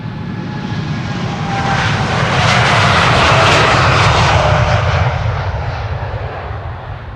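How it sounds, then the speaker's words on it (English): A JetBlue airliner departs Amsterdam Schiphol bound for Boston, a loud jet roar that swells to a peak in the middle as it passes close, then slowly fades, with a thin whine riding over the rumble. "JetBlue in the background. That's going to go to Boston,"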